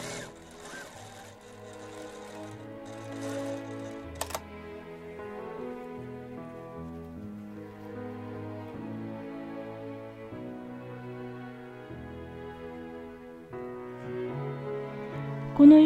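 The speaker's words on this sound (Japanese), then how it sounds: "次はポケットの袋布の周りにミシンをかけます。" A sewing machine stitches around the pocket bag cloth on a remade kimono garment, a soft, steady mechanical whir that runs continuously under background music, with no talking.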